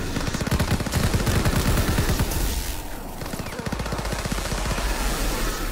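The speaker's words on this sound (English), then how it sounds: "this Thompson is good for headshots" A Thompson submachine gun fires long rapid bursts in COD: WWII Zombies, loud and close, with a short pause before the fire resumes.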